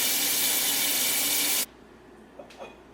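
Water pours into a cooking pot in a strong, rushing stream for over a second, then cuts off abruptly, followed by a couple of light clinks in the quiet.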